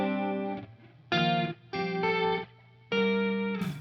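Electric guitar played through Hartwood drive and modulation pedals, loud distorted chords with a chorus shimmer ringing out in four separate bursts with short gaps between them.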